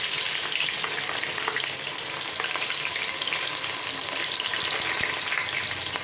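Onions fry for a hotel-style chicken curry made with 3 kg of chicken, a steady close sizzle with scattered pops and crackles running continuously for several seconds, no voices.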